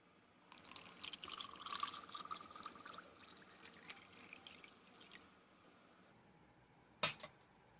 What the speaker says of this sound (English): we'll go ahead and add our 12 ounces of water.